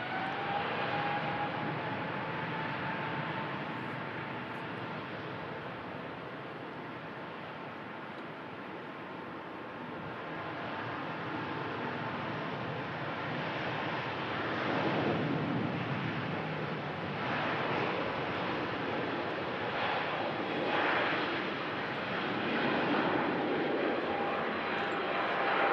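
An Airbus A350-900 airliner takes off at Manchester Airport with a distant, fairly faint engine roar. It swells gradually toward the end, and wind buffets the microphone.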